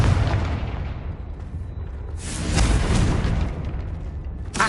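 A Confringo fire spell explodes in Hogwarts Legacy, a broad roaring blast that swells midway and flares again briefly at the end over a rumbling game backdrop.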